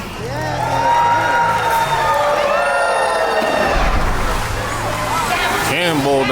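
A crowd at a dolphin presentation at Georgia Aquarium in Atlanta cheers and whoops loudly, with children's shrill shouts rising over a babble of voices and a brief low splash-like rumble in the middle.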